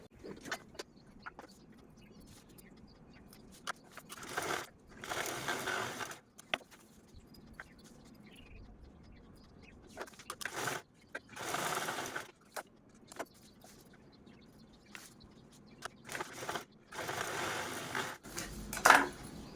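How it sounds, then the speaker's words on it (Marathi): A sewing machine stitches the pockets of a fabric jewellery box in several loud whirring bursts separated by quiet pauses, recorded up close with no talking. "दुसऱ्या लाईनवरती दुसरा पार्ट आपण स्टिच करून घेऊया आणि तिसऱ्या लाईनवरती तिसरा पार्ट आहे तो आपण स्टिच करून घेऊया"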